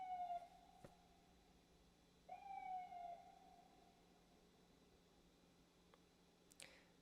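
Ambulance siren passing outside, faint and distant, with a rising-falling wail that comes in two swells, then fades; no talking.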